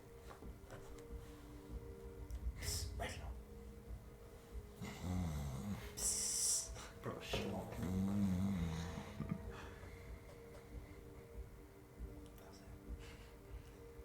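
A person imitates snoring, making several drawn-out, rasping snore sounds with snorting breaths in the middle of the stretch, fairly close and moderately loud, with faint background noise before and after.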